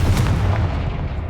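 A Confringo explosive spell blast in a Hogwarts video game, a single close, loud booming burst that decays over about a second.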